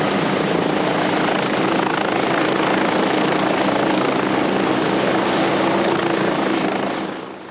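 Westland Scout helicopter in flight, an old manually flown design, gives a loud, steady rotor and engine roar that holds throughout and drops off slightly at the end.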